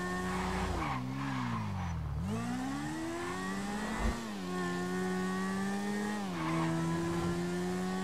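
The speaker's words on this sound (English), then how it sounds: "Whatever motorcycle this is, it goes fast." A motorcycle racing at speed in Grand Theft Auto V, its engine droning loud and close, the pitch dipping and climbing as it shifts and revs, with a sharp thump partway through.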